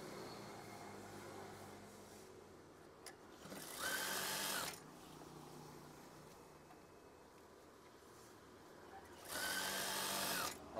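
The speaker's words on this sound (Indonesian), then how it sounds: "Jahit lagi." Sewing machine stitching a curtain, two bursts of rapid whirring stitching about a second long each, separated by quiet room tone with faint handling noises.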